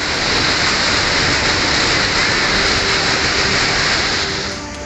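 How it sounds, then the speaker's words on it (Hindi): Swollen drains roar after torrential rain in Kotdwar, Pauri Garhwal, Uttarakhand, a loud continuous broadband rush of floodwater that fills the whole stretch without pause and eases slightly at the end. "यहाँ नाले भयंकर गर्जना के साथ उफान मार रहे हैं।"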